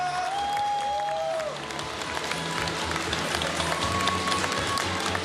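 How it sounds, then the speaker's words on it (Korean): At a People Power Party political event in Seoul, a crowd gives a speaker a strong welcome with a thick wash of applause. Whistles and scattered cheers rise above the clapping, which stays fairly steady and moderately loud. "힘찬 박수로 모시겠습니다."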